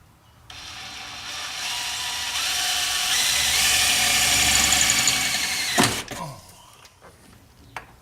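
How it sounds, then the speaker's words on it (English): Power drill boring out a bolt on a 1997 Ford Explorer during window motor replacement, a steady whining drone that builds for several seconds then cuts off, followed by a few faint clanks. "just kind of let the drill do the work."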